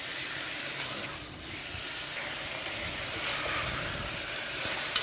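Mutton pieces fry in a pan for a Telugu-style curry, giving a steady, moderately loud hiss and sizzle that holds evenly throughout with no voices.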